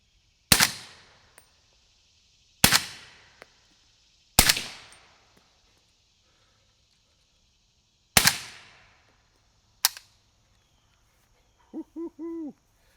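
Five suppressed rifle shots through a Liberty Mystic X suppressor on a 16-inch barrel, sharp close cracks spaced irregularly over several seconds, each followed by a quick mechanical clatter of the action cycling, then a faint owl-like hoot near the end.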